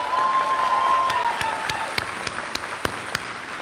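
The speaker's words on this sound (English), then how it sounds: "Let's give this group a round of applause." Crowd applause at a college commencement ceremony that starts full and thins out into a few scattered, separate claps, with a brief whistle early on.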